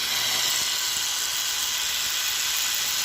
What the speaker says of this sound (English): That sounds like the gearbox has melted.